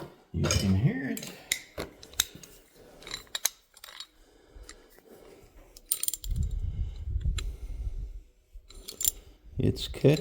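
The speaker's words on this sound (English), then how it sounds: "It's catching and ratcheting. Both ways." A small mechanism with a detent ball catches and ratchets in both directions, giving sharp, irregular clicks and rattles close by, with occasional low voice sounds between them.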